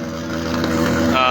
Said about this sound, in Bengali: একজন মোটরসাইকেল আরোহী,